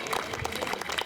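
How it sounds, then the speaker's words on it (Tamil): Audience clapping inside a church during a festival evening service, a short burst of steady, moderately loud applause filling the space. "அவங்களுக்கு கைத்தட்டி ஒரு பாராட்டுவோம்."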